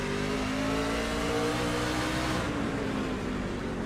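Racing trucks roar down the track in a three-way battle at COTA, a loud steady engine drone with rising revs that holds throughout and fades slightly near the end.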